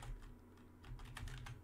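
Soft, quiet keystrokes on a computer keyboard as commands are entered at a Windows command prompt, a quick irregular run of taps over a low hum.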